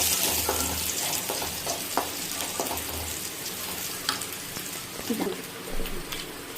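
Onions and curry leaves fry in a pan for a dry fish and drumstick tomato curry, giving a close, steady crackling sizzle with scattered pops and spits throughout.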